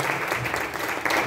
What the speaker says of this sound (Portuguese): Dá uma forte salva de palmas para o Senhor